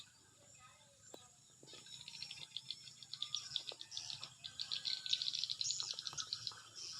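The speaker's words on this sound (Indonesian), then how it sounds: "Teriak burung guys." Outdoor birds chirp and call in quick, busy bursts that grow louder and denser, with faint insect-like trilling and low background noise, and no one speaking over it.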